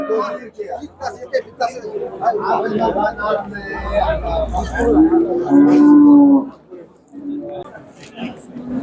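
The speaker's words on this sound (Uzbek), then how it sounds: "Mana navbatdagi ona bola sigirimiz." At a livestock market in Shahrisabz, a cow with her calf gives one long, close moo, with the voices of the crowd chattering steadily around it.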